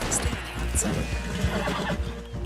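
Horse neighing in Red Dead Redemption 2, sharp whinnies rising repeatedly over hoof clip-clop, with someone talking throughout.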